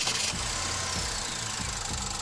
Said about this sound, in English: there's kind of a ticking noise, almost a rattling noise in the engine